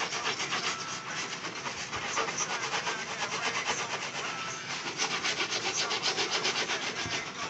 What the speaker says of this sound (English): you just keep scraping until you get your mark off